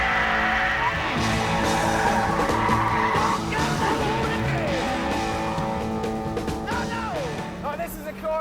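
An MG MGF Trophy 160 roadster driven hard on a race track, its engine revving up through the gears with tyre squeal, loud and continuous, with someone talking over it.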